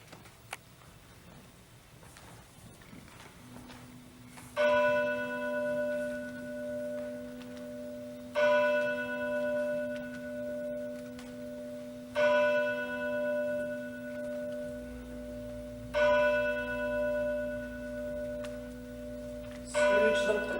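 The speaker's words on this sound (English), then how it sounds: "as the last bell ceased to chime" Church bell tolling slowly and resonantly, five or so rich ringing strikes spaced evenly, each tone sustaining and overlapping the next, heard clearly in a quiet room during a community stage performance of A Christmas Carol.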